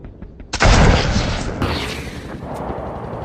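Gunfire from a war film sniper battle: a loud blast bursts in about half a second in and then rumbles and echoes for several seconds, with a sharper second report near the middle, no talking.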